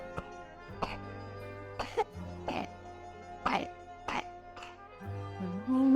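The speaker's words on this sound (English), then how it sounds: "what is that cough?" A series of harsh, wet coughs comes in irregular bursts, close and distinct, over a faint steady hum.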